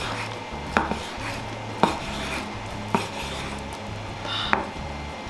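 A knife slices a Korean rolled omelette on a cutting board four or five times at an even, unhurried pace, crisp taps over a low background hum.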